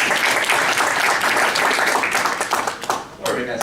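Conference attendees at a PostgreSQL event applaud the people behind a software feature; brisk, loud clapping that thins out and tapers off toward the end, with some voices mixed in.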